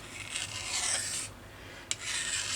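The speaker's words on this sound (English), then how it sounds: "you can even hand file them flat" A chainsaw bar is hand-filed flat: steady, close rasping strokes run for over a second, then pause before a sharp click and another stretch of scraping.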